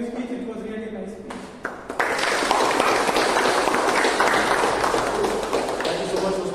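Round of applause at a Toastmasters meeting after a speech evaluation, breaking out after a brief quieter stretch and continuing as dense, steady clapping from a small group.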